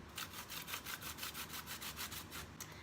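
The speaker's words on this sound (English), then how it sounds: "Then I'm gonna go ahead and grate my zucchini right on in." Zucchini grated by hand straight into blondie batter makes a rapid, rhythmic rasping, about a dozen even back-and-forth strokes, close and fairly quiet.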